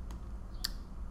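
A couple of isolated keystrokes on a computer keyboard, faint and sparse, with a pause between them and no talking.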